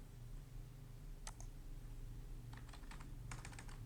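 Typing on a computer keyboard, a short isolated burst of clicks followed by a quick run of several keystrokes, faint and close over a low steady hum.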